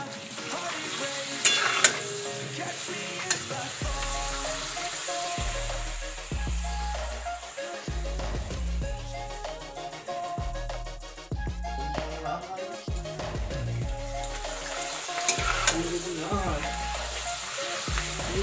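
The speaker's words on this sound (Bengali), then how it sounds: "চলো এক এক করে এরপর পাঁপড়গুলো সব ভেজে নিই।" Papad frying in hot oil gives a continuous crackling sizzle that runs throughout, mixed with prominent background music.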